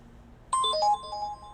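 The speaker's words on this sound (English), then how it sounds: "That's my text message sound." A phone's text message notification plays once, a short bright electronic chime of a few rising tones that rings out for about a second over a quiet room.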